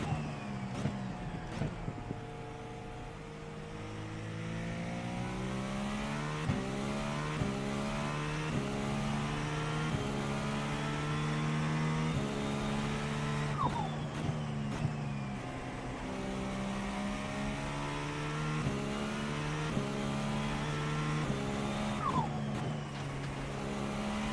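Engine of a short course racing truck in the iRacing sim, revving and shifting through gears continuously, with rising and falling pitch sweeps and brief gaps between upshifts, loud and steady throughout.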